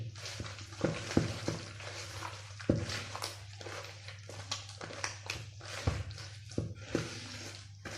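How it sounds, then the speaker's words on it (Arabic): Butter, oil and sugar are mixed together for crescent cookies, with irregular squishy scrapes and taps from stirring over a low steady hum, nearby and fairly quiet. "كنبقاو ندمجو حتى كيتخلط لينا الزبده والزيت والسكر كلاصي"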